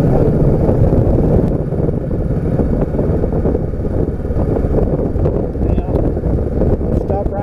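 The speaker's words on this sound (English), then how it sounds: "I've modified them just a little bit, just to get a little bit more sound out of them, where I can at least hear the engine" A motorcycle engine fitted with slightly modified mufflers drones steadily while riding on a warm December day, a loud continuous low rumble mixed with heavy wind buffeting throughout.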